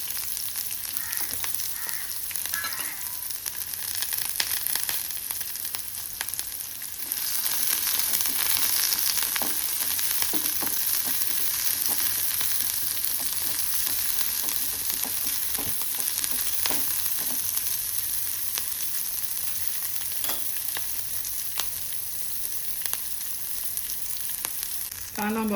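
One onion frying in a hot pan, a loud continuous sizzle and crackle close up, with scattered faint clicks of a spatula, no talking.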